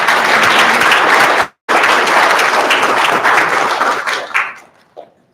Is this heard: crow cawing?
no